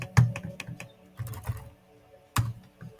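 Keys tapped on a computer keyboard, a few scattered close clicks and thumps separated by short pauses, with no speech.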